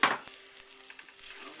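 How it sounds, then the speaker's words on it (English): Dry spices for rogan josh dry-fried in a pan, a brief loud hiss at the start, then soft scraping and faint crackling as they are stirred around. "continue to stir fry it. This is what they call dry frying"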